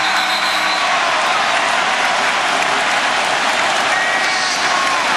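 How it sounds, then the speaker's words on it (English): Basketball arena crowd during a 2004 Nets vs Pistons playoff game roaring loudly and continuously after an air ball, a dense wall of cheering and noise with no break. "And this crowd is erupted"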